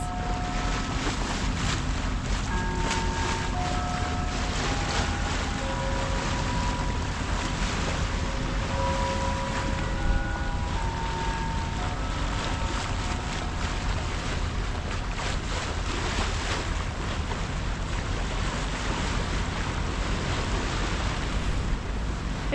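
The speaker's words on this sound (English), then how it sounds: "There's turbulent water in front of us" A sailboat on turbulent, shifting water in Japan's Seto Inland Sea, heard as a continuous loud wash of water and wind noise on the microphone, with steady rushing texture throughout and no speech.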